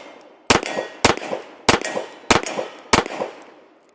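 Five sharp shots from a stainless Sig 1911 Series X .45 ACP pistol fired at a steady pace, each a loud close crack followed by a short ringing echo, with no talking between them.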